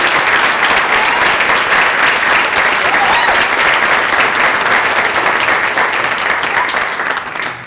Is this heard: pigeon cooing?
no